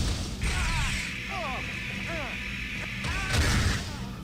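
Sci-fi weapon fire in the video game Star Trek Elite Force, repeated warbling zaps and metallic bursts over a steady game background drone, with a loud impact near the end.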